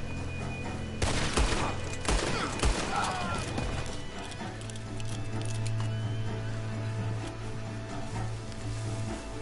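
Gunfire in the Western video game Red Dead Redemption 2, a dense burst of shots crackling over a sustained hum with a tonal drone, fairly loud and continuous.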